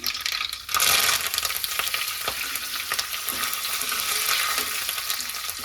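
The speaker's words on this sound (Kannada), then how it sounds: "ಸಾಸಿವೆ ಜೀರಿಗೆ ಚಟಪಟ ಚಟಪಟ ಅನ್ನುವಾಗಲೇ" Mustard seeds and cumin spluttering in hot oil for a tempering, a dense steady crackle and sizzle that swells loud after a brief moment, with scattered sharper pops throughout.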